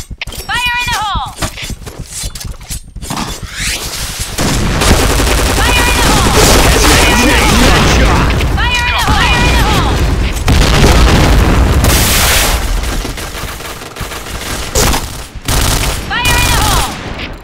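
In the Point Blank shooter game, a grenade blast and rapid gunfire play loud and dense through most of the stretch, with bursts of shots and booms, and game voice lines and shouting over the top.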